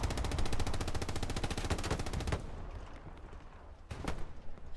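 Rapid machine-gun bursts and gunfire from the Hell Let Loose battle on Utah Beach, a dense rattling volley for a couple of seconds, then quieter distant shots and a sharp later burst.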